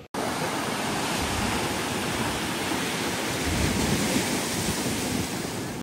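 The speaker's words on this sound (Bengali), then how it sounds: "সাগরের যে এখানে ঢেউটা আসছে সেটা সত্যি দেখতে দারুণ লাগছে" Sea waves at Digha beach make a continuous, loud roar of surf, a dense hiss that rises and falls only slightly and has no voices over it.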